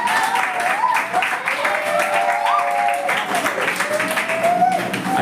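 Applause at a church event in Pollachi, a dense wash of clapping from a gathered group that runs steadily throughout, with talking and faint tonal sounds mixed in above it.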